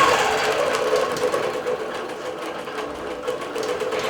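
A Bernina Q24 long-arm quilting machine stitching a digital quilting pattern, giving a loud, steady, rapid mechanical whir and clatter close by that continues without pause and has no voices over it.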